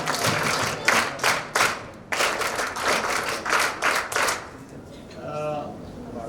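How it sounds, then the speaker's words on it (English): Schoolchildren and officer trainees at a mentorship session clap in bursts of rhythmic applause. The claps come in uneven waves and then give way to a voice speaking at the end. "Give them a round of applause."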